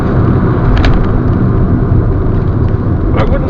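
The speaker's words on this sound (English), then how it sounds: "I'm just going to brake very firmly." A 2005 Mini Cooper convertible 1.6 under very firm braking on the road, heard from inside as a loud, steady rumble of engine and road noise with a couple of brief clicks and no clear tire squeal.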